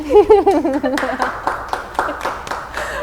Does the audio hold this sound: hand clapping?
yes